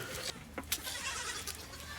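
A goat at a farm gives a few short, faint bleats over steady background noise, with brief bursts spread across the moment rather than one sustained call.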